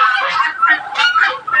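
Geese honk repeatedly in loud, overlapping calls close by, a steady chorus at a farm during breeding season.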